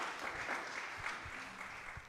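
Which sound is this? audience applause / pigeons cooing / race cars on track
audience applause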